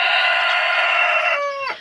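A small rooster lets out a loud, close, drawn-out squawk for nearly two seconds, its harsh rising tone breaking and dropping at the very end, with no talking over it.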